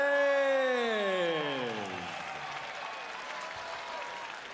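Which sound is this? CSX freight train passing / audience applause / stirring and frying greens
audience applause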